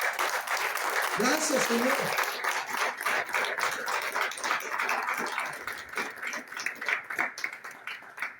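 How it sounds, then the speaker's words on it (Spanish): A church congregation claps during a Sunday service, steady and fairly full applause with a voice speaking briefly over it near the start. "¿Cuántos pueden darle un aplauso al Señor por su santidad?"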